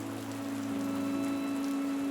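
Rain falls steadily as a continuous soft hiss in an animated Malayalam children's story, with low, sustained tones running underneath and no voices.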